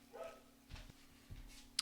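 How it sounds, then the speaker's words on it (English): Dogs bark and yip faintly in the distance, a few short barks spaced apart over a quiet background hum in a home kitchen. "Pardon me while I go yell at my dogs."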